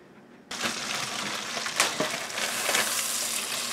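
Hot butter erupts into a loud, steady sizzle in a pan as it heats for searing lamb steak, starting abruptly and continuing close and constant with small crackling bursts.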